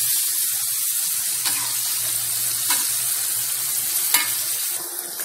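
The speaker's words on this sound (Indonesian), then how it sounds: "Lalu kita aduk sampai merata bumbunya." Chicken with spices is stirred in a hot pan for ayam ungkep, a steady close sizzle of frying with a few sharp scraping clicks from the utensil against the pan.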